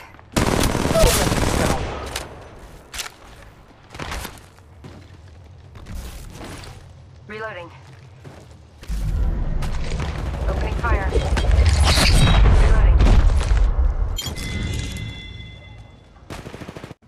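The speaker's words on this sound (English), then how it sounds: "Firing. I'm taking fire. Reloading. Put out the hostile. Scanning the area. Shots fired at me." Gunfire in Apex Legends Mobile, scattered single shots and rapid automatic bursts, with a heavy sustained stretch of firing midway and mechanical clicks, while short voice callouts speak in between.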